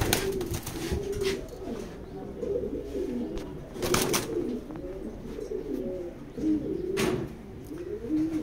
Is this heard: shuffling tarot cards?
no